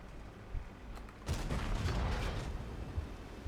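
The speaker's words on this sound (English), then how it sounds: "Firing off a shot just in case" A tank cannon shot in World of Tanks, a tier 10 tank firing: a sudden loud blast followed by a rumbling, crackling decay lasting a couple of seconds, preceded by low engine hum.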